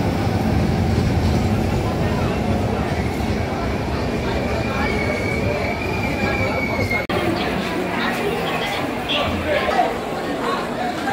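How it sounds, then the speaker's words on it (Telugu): Interior rumble of the 17216 Dharmavaram–Machilipatnam express running, steady rolling noise with a faint whining squeal, while passengers chatter throughout. "మేము ఈరోజు 17216 ధర్మవరం మచిలీపట్నం ఎక్స్ప్రెస్లో ట్రావెల్ చేయబోతున్నాం."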